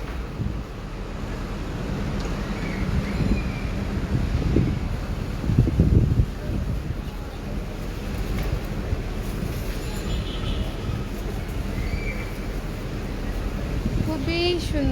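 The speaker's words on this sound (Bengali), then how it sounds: "উফ, কত বাতাস!" Strong gusting wind ahead of a storm roars and buffets the microphone continuously, swelling louder in the middle, while a person talks over it.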